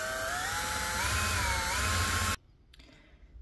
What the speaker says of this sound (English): just let the drill do all the work